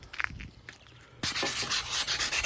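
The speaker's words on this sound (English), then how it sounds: "Just getting the surface rust off these." Surface rust being sanded off parts of an AU Ford Fairlane, starting with faint scattered rubbing, then at about the midpoint a loud, steady, close abrasive hiss of sanding that continues to the end.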